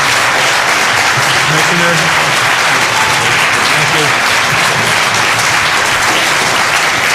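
An audience at a state assembly hearing for the environmental conservation commissioner breaks into loud, sustained applause, with a voice speaking under the clapping.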